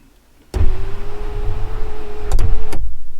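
An electric car sunroof motor whirs steadily as the sunroof lowers, a close, even mechanical hum lasting about two seconds, ending with soft clicks and a thunk as it stops.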